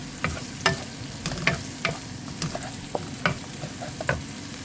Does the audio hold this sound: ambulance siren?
no